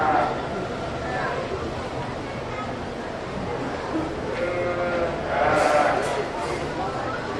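Ewe lambs bleat in a county fair sheep show arena, several calls rising over a busy, echoing crowd and a public-address voice.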